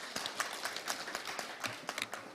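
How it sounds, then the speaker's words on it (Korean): Scattered applause from a small forum audience welcoming a district mayor, loose uneven claps at moderate level with no voices over them. "이동진 구청장님 박수로 맞이해 주시기 바랍니다."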